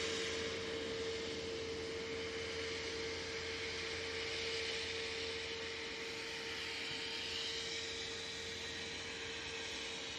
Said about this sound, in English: Next in, we have the Junyao coming in from Shanghai. 787-9 Dreamliner.